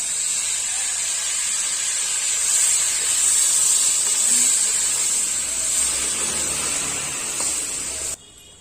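Boiled chickpeas frying in a spoonful of mustard oil make a steady, bright, hissing sizzle that stays even and close throughout before cutting off abruptly at the end.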